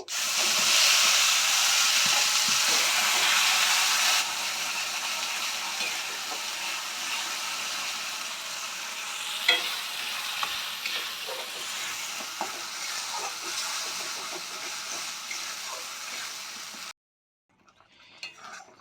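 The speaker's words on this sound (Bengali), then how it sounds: "মশলাটা আমরা ঠিক ফ্রাই করে নেব এইভাবে" Ground masala paste fries in a pan over a gas flame, a loud steady hiss and sizzle joined by scattered spatula scrapes and stirring clinks, ending in a short quiet stretch with a few soft knocks.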